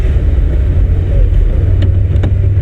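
A car in third gear during a driving lesson cruises along with a steady, loud low engine rumble and road noise from inside the cabin, with a couple of faint clicks.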